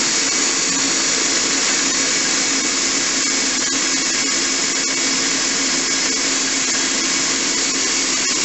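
An electric grain mill crushing malted brewing grain under a closed lid, giving a steady, loud, continuous grinding whir that holds without pause throughout.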